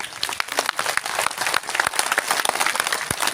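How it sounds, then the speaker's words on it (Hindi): Loud, dense applause from a large festival crowd at the Latiya Mahotsav, steady clapping filling the whole moment with a few sharper claps standing out. "मैं चाहता हूं कि जोरदार ताली आप लोगों की तरफ होना चाहिए"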